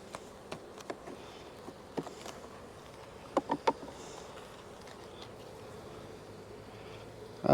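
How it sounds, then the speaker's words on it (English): Honey bees buzz on a frame of capped honey lifted from a queenless hive, a steady close hum with scattered brief louder buzzes of single bees passing near. "Another frame full of bees"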